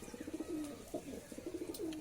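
Outdoors, a pigeon gives repeated low, throaty coos in short rhythmic bursts, soft and moderately close, over a quiet background.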